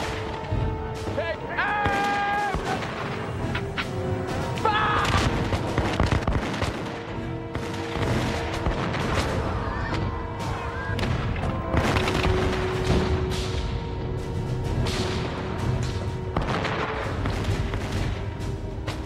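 Musket fire and British cannon blasts from a Revolutionary War battle rumble beneath a narrator's voice, with repeated booms and crackling volleys set against a sustained orchestral score.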